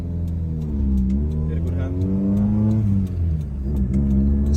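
A car engine revs repeatedly in a garage, the rising and falling pitch sitting under ongoing talk from people nearby.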